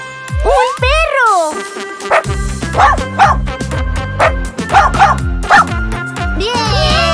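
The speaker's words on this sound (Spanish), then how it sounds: "¡Un perro!" A toy-like cartoon dog barks and yips in a short playful burst of repeated woofs amid bright synthetic music and cheerful children's-show voices.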